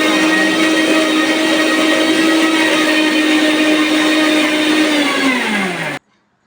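A kitchen mixer grinder blends apple pieces with milk into juice, its loud, steady motor whine running for about six seconds before winding down and cutting off into silence.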